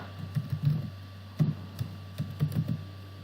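Keys on a computer keyboard tapped in short bursts as a file name is typed, with clusters of close, light clicks separated by brief pauses in a quiet room.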